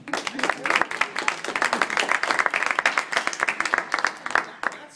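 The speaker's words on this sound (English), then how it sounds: "If I make it, I want a round of applause." A small audience claps and cheers in a fairly steady round of applause at a lecture, the dense patter of hands continuing for several seconds with a few brief exclamations mixed in.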